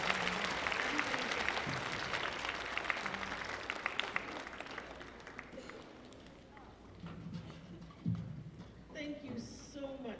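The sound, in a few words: concert audience applauding the volunteers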